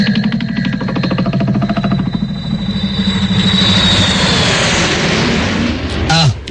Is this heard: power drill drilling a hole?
no